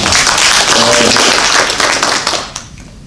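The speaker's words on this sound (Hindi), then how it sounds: "सबके लिए तालियां।" An audience at a script reading session claps together in a dense, steady burst that thins out and fades toward the end, with a faint voice underneath.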